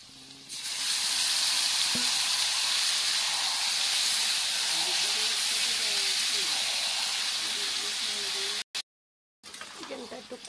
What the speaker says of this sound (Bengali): আলু ভাজা হয়ে গেছে, পেঁয়াজও ভাজা হয়ে গেছে। এখন চিকেনগুলো দিয়ে দেব।